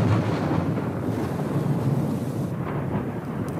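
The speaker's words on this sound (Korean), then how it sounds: "천둥 소리 나네." A loud, sustained roll of thunder rumbles continuously with a broad, booming texture and no voices over it.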